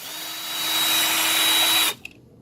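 Cordless power drill whirring steadily as it backs out a tight 10 mm bolt on a 2009-2017 Mitsubishi Lancer, loud and close, then cutting off abruptly near the end with a faint clink after.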